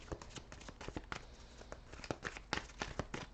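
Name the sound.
shuffling tarot cards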